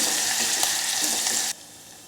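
Whole cumin, curry leaves, a dried red chilli and ginger-chilli paste sizzle loudly in hot oil, a dense, steady crackle that cuts off abruptly partway through, leaving a quiet hush.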